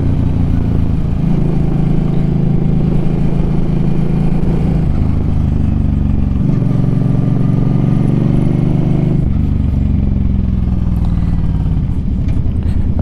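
Suzuki M50 motorcycle engine while riding, a loud, steady low drone close up that rises and falls in pitch through several gear changes, with rushing wind noise throughout.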